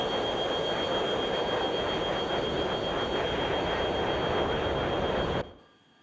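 Harrier jump jet engine in the retro flight sim Tiny Combat Arena, a loud steady roaring drone with a thin high whine that cuts off abruptly near the end.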